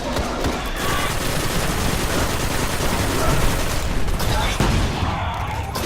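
Hip-fired gun in Destiny on PS4, bursts of rapid gunfire blending into dense, loud fusillades with booming impacts, near and continuous, with a voice speaking under the shooting.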